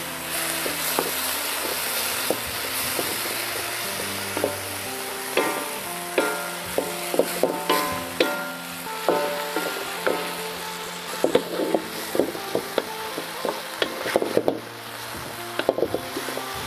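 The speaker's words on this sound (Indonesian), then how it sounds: "Kita tumiskan dia ya, supaya dia tercampur dengan bawang, semua cili." Baung river fish being stir-fried with onion and chili in a pan, a steady loud sizzle with repeated scraping taps of a utensil stirring, continuing without talk.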